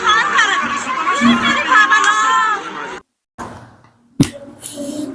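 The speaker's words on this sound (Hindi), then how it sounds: "कैसे लोग चीख रहे हैं, बिलक रहे हैं अपनी जान बचाने के लिए" People scream and wail in panic during a flood from heavy rain that has swept houses into the water. A chaotic crowd of shrill cries and shouts lasts about three seconds, then a short gap, then sharp scattered noises.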